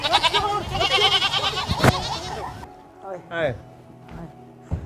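A goat bleats in a Pakistani television comedy scene, with several wavering cries near the end after loud voices talk over music and a sharp clap.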